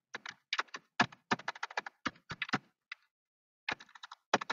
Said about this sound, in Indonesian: Saya ngetik dengan conf t, sama.